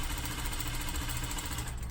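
A sewing machine runs steadily along the final seam line in one continuous pass, a close, even mechanical hum and rattle with no stops or back stitching.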